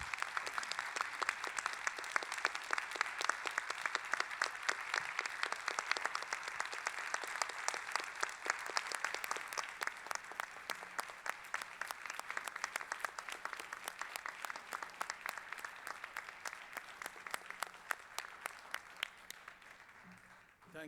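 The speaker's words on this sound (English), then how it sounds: "I would like to close this particular panel out with a round of applause for Romina" A conference audience giving a sustained round of applause for Romina, dense steady clapping throughout that thins gradually toward the end, with faint voices underneath.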